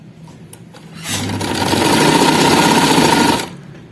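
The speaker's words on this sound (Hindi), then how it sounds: "अब इसको भी यहाँ से सिलाई लगा के मैं दोनों कंधे जोड़ूंगी।" A sewing machine runs in one continuous burst, stitching the shoulders of an A-line frock, loud and close for about two and a half seconds after a few faint handling taps, then stopping abruptly.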